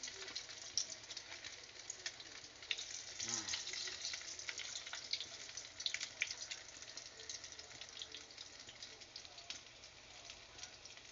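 Torta of banana blossom (puso ng saging) sizzles steadily in a frying pan, a soft continuous crackle at low volume.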